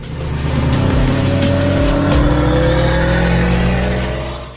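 A Subaru Forester racing an Audi A3, with loud, close engines revving and accelerating hard together and a brief tyre squeal partway through. The roar swells and then fades slightly at the end.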